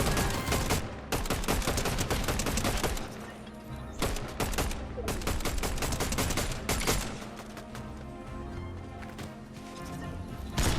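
Rapid, dense bursts of gunfire in the video game Fortnite, loud and nearly continuous for about eleven seconds, with short gaps between volleys and overlapping shots from several weapons.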